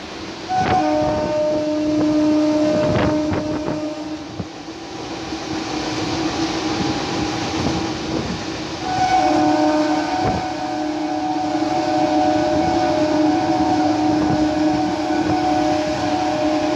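Inside India's first superfast MEMU train running between Muzaffarnagar and Saharanpur: a loud, steady rumble of the moving carriages, with a horn sounding in long tonal blasts and repeated clanks on the rails.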